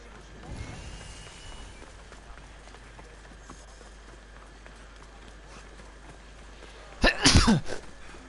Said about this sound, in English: I did not mean to sneeze